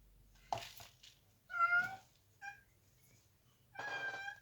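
A cat meows four times in a quiet room, short, close calls spaced about a second apart, the second and last drawn out longer.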